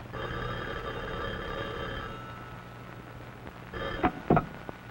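A telephone rings inside a 1950s home, its bell sounding steadily through the opening seconds before a few short clattering knocks near the end, with no voices present.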